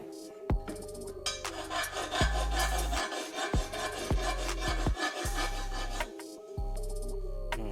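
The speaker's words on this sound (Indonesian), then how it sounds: "Pinggiran yang tajam dikikir." A hand file rasps along the sharp edge of a Vespa scooter engine part in rhythmic strokes, each a few tenths of a second, close up and loud with brief pauses between passes.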